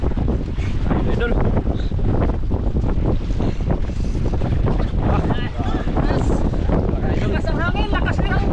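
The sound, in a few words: strong wind while fishing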